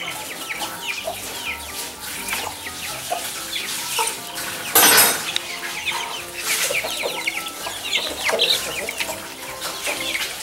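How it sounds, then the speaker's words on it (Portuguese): A giant rooster, over a metre tall, clucks and squawks repeatedly up close, with a loud burst of flapping or crowing midway and other birds chirping around it. "Esse é o galo gigante, o nome dele é Trucão"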